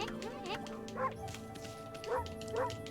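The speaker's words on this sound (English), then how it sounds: "Bark noise is still in the game." A dog's bark from a beta build of the video game Okami sounds several times in short, yelping calls spaced about a second apart, set against low background game sound.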